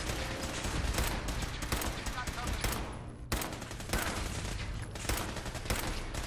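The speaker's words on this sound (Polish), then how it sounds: "No i wybuchnęło w końcu." Video game explosions and gunfire in Fallout 4 crackle as loud, dense bursts in rapid succession, briefly dropping out before resuming with repeated blasts and clatter.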